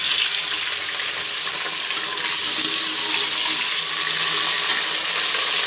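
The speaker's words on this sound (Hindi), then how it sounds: "अब हमने ये गोश्त डालना है।" Meat added to a pan of fried onions while cooking aloo gosht, a steady loud sizzle and hiss that holds evenly throughout without any talk.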